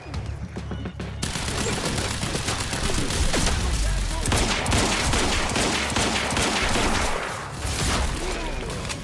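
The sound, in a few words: gunfire in the video game Quantum Break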